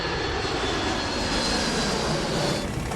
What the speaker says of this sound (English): everybody put their hands on the throttles and pushed the throttles up to full blast